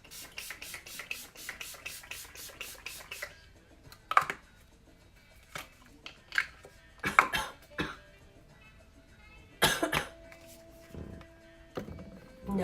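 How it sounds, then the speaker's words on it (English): A person coughs in several short bursts spread out over a quiet stretch, close by, with some faint rustling between the coughs. "when I hold my breath, sometimes it makes me cough"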